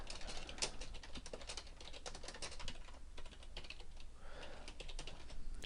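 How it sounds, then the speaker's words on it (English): Rapid, steady clatter of fingers typing on a computer keyboard, continuous and fairly close with no other sounds over it. "You would just type a reason."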